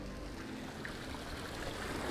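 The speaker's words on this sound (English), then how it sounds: "I'm gonna leave that waterfall right about there" A hot tub's waterfall feature runs with a soft, steady splashing and trickle, faint and continuous with no talk.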